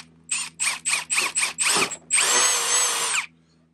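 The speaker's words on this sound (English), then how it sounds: "we'll take our 1/8 inch drill bit, and we're going to drill 3 holes" A power drill with a 1/8 inch bit whirs in several short bursts, pulsing on and off rapidly, then runs in one longer sustained whine before stopping.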